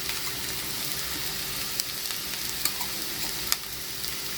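Ground garlic and green chilli paste hits hot oil in a pan and gives a loud, continuous close sizzle and crackle, with a few stirring clicks and no talking.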